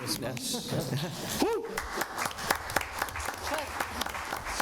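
Audience applause at a town board meeting, a scattered patter of clapping mixed with cheering voices and some chatter, moderately near and lively.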